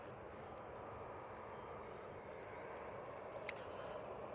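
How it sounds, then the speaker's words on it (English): A Ryanair Boeing 737-800 jet taxis past at an airport, producing a steady, faint, distant engine roar that holds without change throughout. "Next out will be a Ryanair. It's just currently on a taxi going past the RVP."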